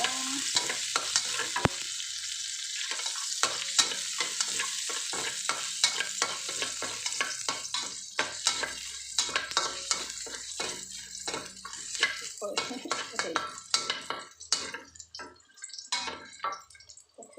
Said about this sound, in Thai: ใส่กระเทียมลงไป